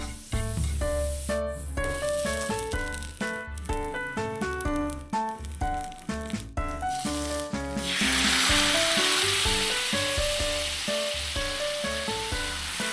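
Pork chops with gravy sizzle on a hot plate, a bright crackling hiss that only starts about two-thirds of the way through, after a stretch of background music that keeps playing beneath it.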